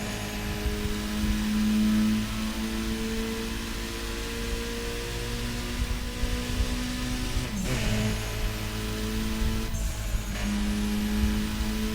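A car engine in the Burnout Paradise racing game holds a steady, droning hum with sustained tonal lines and shifting pitch, and brief sweeps as the revs change, moderately loud and with no voices.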